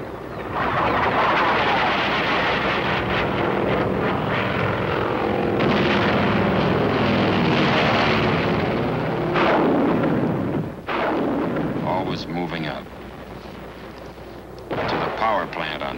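A Korean War artillery fire curtain near the Chosin Reservoir: a dense, loud, continuous roar of guns and blasts with a deep rumble and a few sharp breaks, and a narrator speaking over it.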